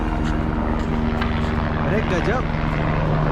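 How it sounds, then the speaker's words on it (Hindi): Helicopter rotor and engine drone, steady and fairly loud, heard on a night mountain trek route to Hemkund Sahib, with a person's voice briefly over it. "हेलीकॉप्टर, इसी को पकड़ना है।"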